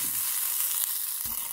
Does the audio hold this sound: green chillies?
yes